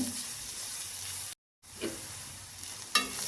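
Cut green chillies frying in a pan for a drumstick-leaf and egg stir-fry, giving a steady broadband sizzle with a brief gap and a couple of sharper spatter bursts, no voices.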